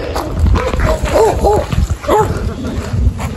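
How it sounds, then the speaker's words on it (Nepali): Several dogs barking and yipping in short bursts nearby, mixed with outdoor background noise and a little indistinct human voice. "कुकुरहरू आयो यार"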